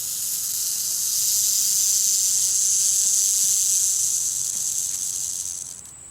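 A timber rattlesnake hidden under a sheet of tin gives a steady, loud buzzing rattle and hiss that holds for several seconds before easing off, close by and with no voices.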